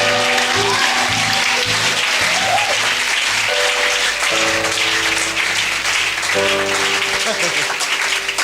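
A church congregation at a prophet's service applauding and acclaiming, loud sustained clapping mixed with shouted voices and a droning musical tone underneath, close and dense throughout.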